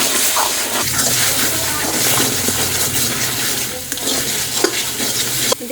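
Double-yolk farm eggs frying in hot oil in a pan, a loud, steady crackling sizzle with occasional scrapes of a spatula stirring, close up throughout.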